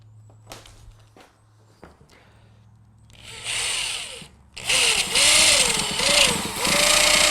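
A power drill whirs in short bursts after some light knocks and handling, then runs steadily and loudly countersinking a screw hole into a wooden leg, its pitch dipping and rising as it bites in.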